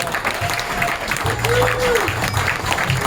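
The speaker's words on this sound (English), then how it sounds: "Sherie Hayes, give her a round of applause" Audience applause at a stand-up comedy show for an over-60 comedy competition, a steady wash of clapping under a loud voice speaking over it.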